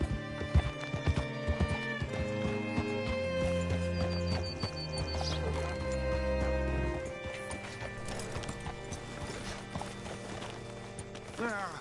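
Horse hooves clip-clop in Red Dead Redemption 2, with rhythmic hoofbeats and a whinny over a backdrop of game music, and a character speaking over the sounds.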